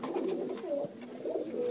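A pigeon coos softly and repeatedly while being fitted with a leg band by hand, a low, throaty, rolling call that runs steadily throughout with no talking.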